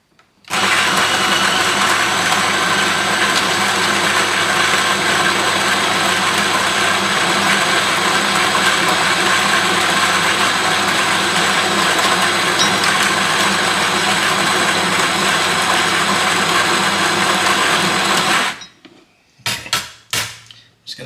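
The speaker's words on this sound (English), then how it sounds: "So now I need to grind into the group handle around about 14 grams of coffee." An espresso coffee grinder runs for about eighteen seconds, grinding roughly 14 grams into a group handle, a loud, steady close whir that then cuts off, followed by a few brief knocks.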